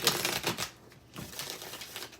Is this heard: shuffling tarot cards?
yes